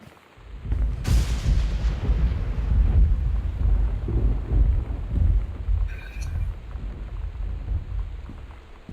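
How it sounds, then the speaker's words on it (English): Thunder rumbles loudly in the game Gone Home, starting with a sharp crack and rolling on as a long deep roar with rain-like hiss underneath. "I thought that was fast breaking, but not just particularly loud thunder."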